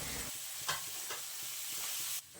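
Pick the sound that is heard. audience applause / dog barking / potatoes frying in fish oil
potatoes frying in fish oil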